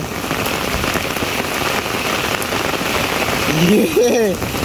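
Heavy monsoon rain pours down in a village, a dense steady drumming on surfaces all around, with a brief voice rising near the end.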